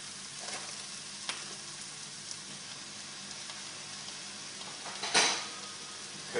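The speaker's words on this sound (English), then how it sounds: "So I'm going to add all of the turkey to the mix, to the pan, sorry." Ground turkey going into a hot pan gives a steady, moderate sizzle with a few soft clanks of utensils and a sharper burst of activity near the end, and no voices.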